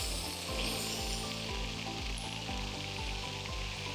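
Yorkshire burgers sizzle on a mesh fire pit while cooking outdoors at a wild camp, with a steady, close crackling hiss and a low repeating thud underneath, no voices.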